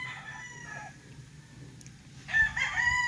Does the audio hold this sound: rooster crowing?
yes